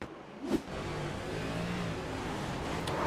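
A race car engine revs at a restart during a simulated stock car race at Charlotte Motor Speedway, sustaining a continuous loud mid-pitched drone after a brief bump near the start.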